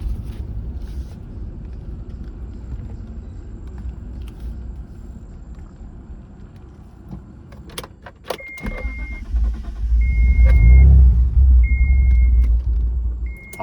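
A Mitsubishi 3000GT VR4, just running again after an ECU rebuild, rolls down a hill from a driveway. Its engine drones low and steady inside the cabin, swelling louder toward the end, with a few short electronic beeps over the rumble.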